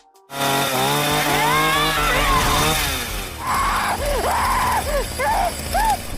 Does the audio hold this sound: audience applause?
no